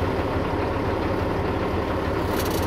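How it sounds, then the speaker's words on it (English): A truck engine idles steadily during an air brake inspection, a loud, constant low rumble with no breaks and no talk over it. "Shut my engine off."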